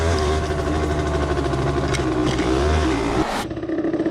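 A Derbi Senda SM 50cc supermoto engine drones steadily while riding a dry off-road trail, loud and close with wind rush, then drops off abruptly near the end.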